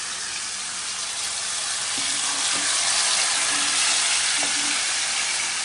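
A whole fish fries in hot oil with curry leaves, giving a loud, steady, close sizzle with faint clinks of stirring and no talk.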